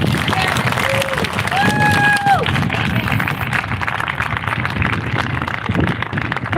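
An audience at a Bay View massacre remembrance event applauds the actors, directors, volunteers and musicians of a dramatic program. The applause is dense, loud and sustained, with a few brief whistled or voiced tones early on.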